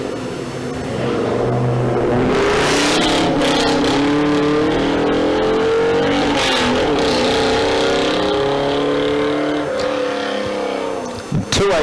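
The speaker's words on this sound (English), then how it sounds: "Ford V8 on board that Falcon. Coming out of the JMC workshop. Sounds brilliant." Ford Falcon with a 289 Ford V8 accelerating at the Leyburn Sprints, a loud, close, rising engine roar with gear changes and revving throughout, with a commentator talking over it.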